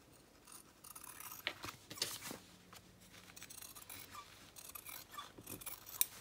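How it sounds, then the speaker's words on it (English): Scissors trim the overhanging paper edge of a junk journal cover in a few quiet, short snips and rustles close by, with a soft brief hum partway through. "So we'll just trim a little off."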